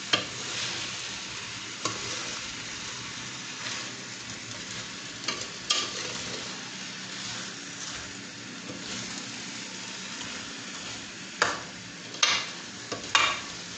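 A spoon scrapes and turns aloo gobi, potatoes and cauliflower in gravy, around a pan over a steady soft sizzle, with intermittent sharp clinks and scrapes against the metal and no talking.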